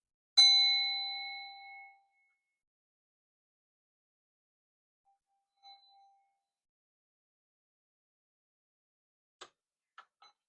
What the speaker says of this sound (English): I'm going to go ring the bell because we have to do a prayer